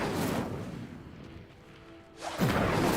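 A fire spell cast on a stone pyre in Hogwarts Legacy flares with a deep whooshing burst that fades into a quiet, low hum, then a second loud rushing surge of flame swells at the end.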